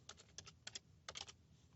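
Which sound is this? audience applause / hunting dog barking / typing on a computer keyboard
typing on a computer keyboard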